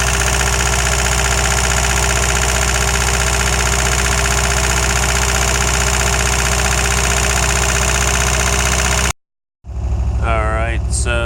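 A Nissan SR20DET engine idles high at around 1500 rpm, a steady loud continuous drone close to the microphone, cutting off briefly near the end before a voice speaks over it.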